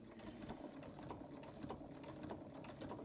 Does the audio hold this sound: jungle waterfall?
no